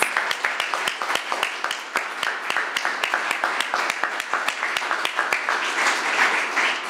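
Applause from an audience honoring Dr. Kramer at a SUNY Downstate event in Brooklyn, with sharp individual claps standing out over a steady wash of clapping that holds through the whole stretch.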